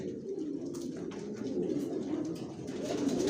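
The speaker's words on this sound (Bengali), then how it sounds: "আমার লফটে সব লংয়ের কবুতর পালি জনসনের" Soft, low cooing of long-distance racing pigeons in a loft, rolling on continuously, close by, with a few faint rustles and chirps in the background.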